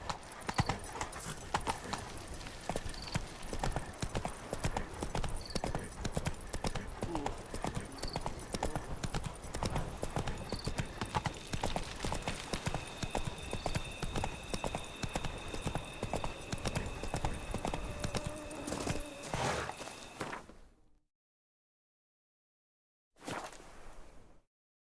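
Hooves of Roach, the horse in The Witcher 3: Blood and Wine, clip-clop in a fast, steady gallop for about twenty seconds alongside game music, then cut out briefly before a short burst returns.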